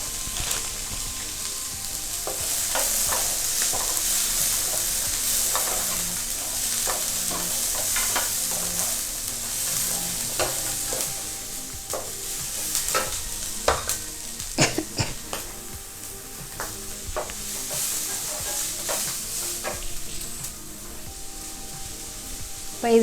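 Vegetables and a handful of cashews stir-frying in a pan for pineapple fried rice, a steady close sizzle throughout with frequent scraping and clinking strokes of a spatula against the pan, no talking.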